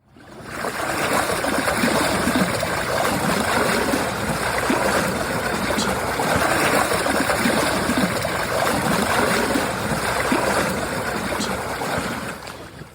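The Bièvre River in Paris flowing, a continuous close rush and trickle of moving water that fades in and holds steady and loud throughout, with no voices.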